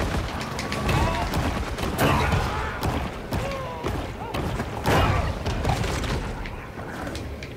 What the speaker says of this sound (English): Why are they shooting me already?